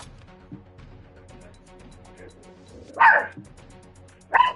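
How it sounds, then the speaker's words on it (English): A pet dog barks indoors during a video game session, two loud sharp barks spaced apart over a quiet background hum, with no talk over them. "Cookie, I know you're not barking at me."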